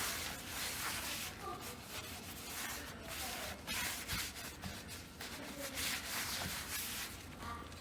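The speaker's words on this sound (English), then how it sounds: "I just rub in the oil onto it." Oily cloth rubbing over the surface of a cast iron skillet to work in flaxseed oil, a soft, continuous, close-up scrubbing with uneven strokes.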